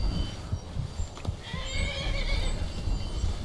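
A horse in the Skyrim video game whinnies loudly while its hooves clip-clop steadily, close and clear with no talk over it.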